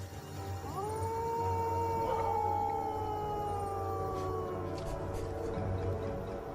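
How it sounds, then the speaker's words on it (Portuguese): A wild dog, a dingo in the Australian outback, lets out one long, sustained howl that slides upward then holds steady, carrying clearly over a low background hum. "E este cão selvagem não está sozinho."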